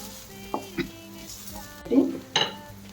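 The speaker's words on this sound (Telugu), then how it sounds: "క్యారెట్కు ఉన్న తేమతోటి ఫ్రై చక్కగా ఫ్రై అవుతూ ఉంటుంది." Carrot fry cooks in a pan with a soft sizzle, while a spoon clinks and scrapes against the metal in a few sharp, uneven hits.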